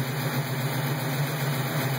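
The EFI engine of a 1967 Ford Mustang runs at its first startup, a steady low rumbling drone with no obvious revs, close and even in level.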